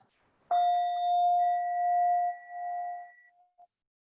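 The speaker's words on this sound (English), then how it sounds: "I'm going to sound the bell to indicate the end of this practice." A meditation bell is struck once to close a mindfulness sitting practice, giving a clear sustained ring that slowly fades over about three seconds in a quiet room.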